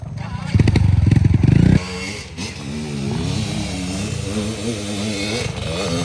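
A dirt trail motorcycle roars loudly nearby, its engine revving hard and then settling into a steady, wavering drone as it works over rough terrain, with people calling out in the background.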